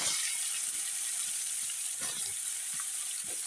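Pieces of rohu fish fry in hot oil with a loud, steady sizzle and a few soft knocks from a utensil.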